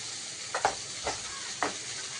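Eggplant frying in hot oil with fried onion in a home kitchen pan, a steady soft sizzle broken by three brief scraping stirs, close and moderately quiet, with no talking.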